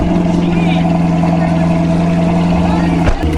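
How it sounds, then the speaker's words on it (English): A C5 Corvette fixed-roof coupe idles loudly and steadily right after a cold start, a deep, close engine drone that holds even before a brief dip near the end. "That was actually a cold start."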